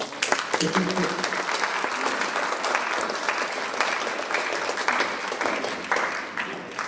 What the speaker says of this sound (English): let you give yourself a round of applause for accomplishing everything that you have thus far